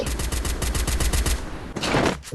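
Gunshots in a battle royale video game: a rapid burst of loud automatic fire in evenly spaced cracks, then a short pause and a final louder blast, all close and dominant.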